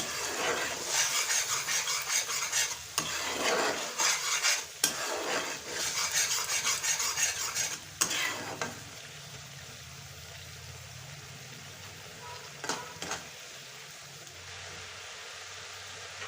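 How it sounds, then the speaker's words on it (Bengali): Grape pickle being stirred nonstop in a pan, a steady scraping and sizzling rasp of the spoon against the metal for several seconds, then easing off to a quieter simmer with only an occasional scrape. "অনবরত নাড়তে থাকতে হবে"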